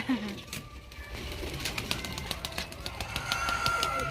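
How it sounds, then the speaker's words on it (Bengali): Pigeons coo on a rooftop as the flock comes out, soft calls spread through a busy outdoor background with scattered clatter and distant noise, without clear talk. "এই দেখো সব পায়রাগুলো কেমন বেরোচ্ছে দেখো"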